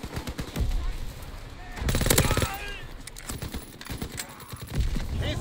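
Gunfire rattles through a Domination match on the London Docks map in the video game Call of Duty WWII, with repeated rapid automatic bursts and scattered single shots at close to mid distance.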